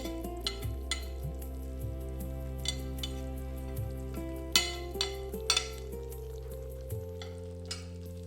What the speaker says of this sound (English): Stir all the ingredients slowly and nicely, as seen in the video.